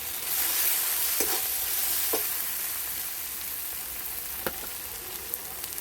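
Cauliflower curry fries in a pan with turmeric, a soft steady sizzle broken by a few sharp scraping clinks of a spoon, quiet and with no talk.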